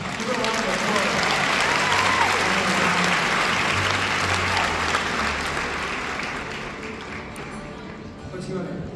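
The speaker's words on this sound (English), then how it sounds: "Thank you so much. Give a round of applause." A live podcast audience on a Vancouver tour stop applauds steadily and loudly for about nine seconds, a dense wash of many hands that eases slightly toward the end, with some voices mixed in.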